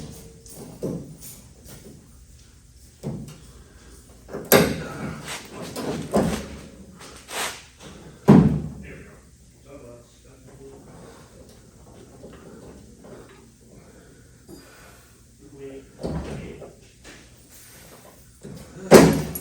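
A toolbox drawer slides open and shut as a wrench goes back into the bottom drawer of the top box in a shop during underbody work on an El Caballero, with repeated sharp metal knocks and rattles.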